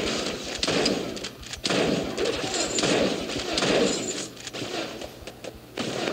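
Gunfire in the shooter game Paladins Strike comes as repeated bursts of rapid shots separated by short pauses, loud and close over game ambience.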